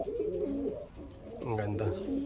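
Pigeons coo softly at a loft, with low rolling coos repeating close by while people talk over them.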